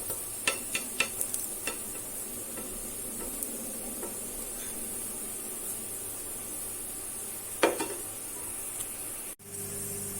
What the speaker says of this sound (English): look how nicely browned the garlic has become